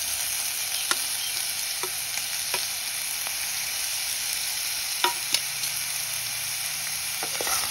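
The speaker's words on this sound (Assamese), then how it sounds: "বিলাহী দি ভালদৰে হেতাৰে মই এনেদৰে লৰাই ল'ম।" Tomato pieces are stirred in a pan with a spatula over a steady, bright frying hiss, broken by scattered sharp taps and scrapes at close range.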